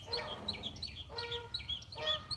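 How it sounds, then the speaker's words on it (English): A lone goose calling outdoors in northeast Florida, several short honking calls in quick succession over a low background hum, moderately close. "It's one goose by himself over there."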